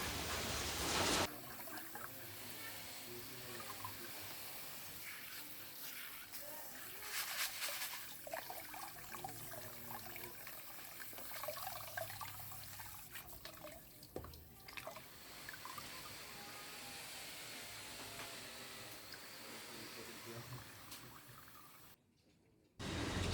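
Water rinses small mung-bean-sized pumice stones clean at home, a steady wet sloshing and dripping with irregular splashes running throughout, close and moderately loud, then briefly cutting out near the end.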